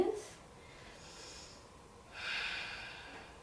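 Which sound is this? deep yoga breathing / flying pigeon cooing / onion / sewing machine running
deep yoga breathing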